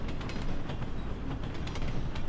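A train rolls past a stationary listener, a steady rumbling roar with faint rhythmic rail clatter.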